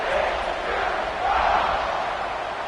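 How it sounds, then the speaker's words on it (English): A football stadium crowd roars steadily at kickoff after a touchdown drive, a loud, dense wash of cheering that holds throughout with no clear voices over it. "Kickoff unit is out there again, and this crowd is feeling themselves after that last drive."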